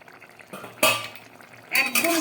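A cooking pot lid comes off a pot of potato-pumpkin curry with two sharp metallic clanks, close and fairly loud, separated by a quieter moment of faint kitchen noise.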